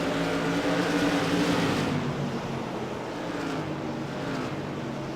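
A big pack of modified race cars in the CAN-AM Tour Modified Series sweeps around Oxford Plains Speedway; a loud engine roar with a pitch that sags as cars pass, then a steadier, slightly quieter drone.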